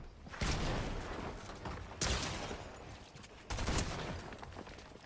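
Submachine gun fire in Fortnite: three long automatic bursts, each beginning with a sharp onset and rolling on as rapid shots, moderately loud with no voice over them.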